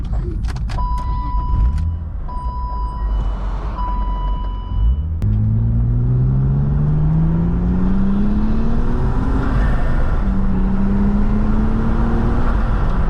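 A turbocharged BMW E36 M3 engine revs and pulls hard, its tone climbing steadily through the gears after a brief start-up, loud and close.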